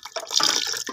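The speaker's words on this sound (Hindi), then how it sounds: "अभी इसके अंदर मैं नलके का पानी ऐड करूँगा। तो हम इसमें थोड़ा सा पानी डालेंगे" Tap water splashes into a container for preparing Chinese cricket mercury mix, a close, bright pouring gush that lasts most of a second with no voices.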